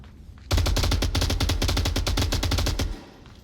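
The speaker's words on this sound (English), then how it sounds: "Shots being thrown down here." Automatic rifle fire in the Onward VR shooter, a fast, loud, close burst of roughly two and a half seconds of rapid evenly spaced shots that stops abruptly.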